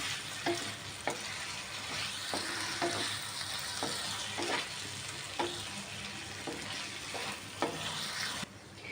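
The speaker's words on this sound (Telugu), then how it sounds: "అల్లం వెల్లుల్లి పేస్ట్ పచ్చివాసన పోయేంత వరకు వేయించుకోవాలి." Ginger garlic paste fries in a pan for tomato rice, a soft steady sizzle broken by sharp scrapes of a spoon stirring at regular intervals, close and on its own.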